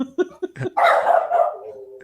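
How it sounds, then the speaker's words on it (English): Several dogs bark in quick yips, then break into a loud, drawn-out howl that fades away, close up and with no talk over it. "See, now they're howling too."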